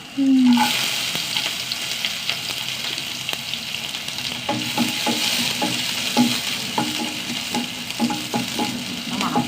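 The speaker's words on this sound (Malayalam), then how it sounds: "നെയ്യിൽ വറുക്കുമ്പോൾ" Cumin, dried red chilli, a small piece of ginger and a few garlic cloves fry in hot ghee with a steady close sizzle, broken by a few scraping stirs of a spoon in the pan.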